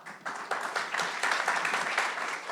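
Debate audience clapping and cheering, a dense burst of applause that starts abruptly and holds steady with rhythmic claps throughout.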